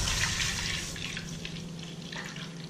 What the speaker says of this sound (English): take about 1 liter of milk. Okay, and pour it in a pan.